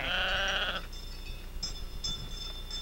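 A sheep bleats loudly up close for under a second, then quieter background noise with faint clicks and soft tones follows.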